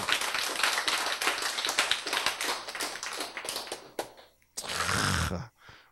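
Audience clapping at a Korean lecture on the state of cancer treatment: a loose burst of hand claps through most of the stretch, then a brief denser swell before fading to quiet.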